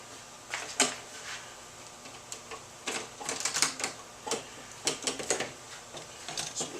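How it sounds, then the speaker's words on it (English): Butterfly screws or latches being undone on an Odyssey DJ table case, a series of light metallic clicks and rattles in irregular bursts, close and fairly quiet, with no talking. "Unlock the butterfly screws"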